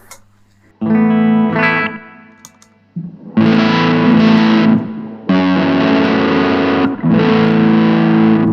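An electric guitar played through a Mythos Big Puft fuzz pedal sounds up close in loud, buzzing distorted chords, a short phrase and then several sustained strums separated by brief pauses, with no talk.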